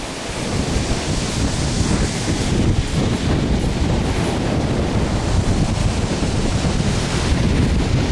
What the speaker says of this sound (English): It's slightly windy, but we've got the sea just to the back of us.